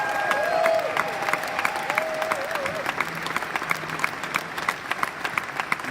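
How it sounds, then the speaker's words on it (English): Conference audience applauds the developers in a large hall, a steady wash of many hands clapping with a voice speaking over the start. "Big applause for our developer."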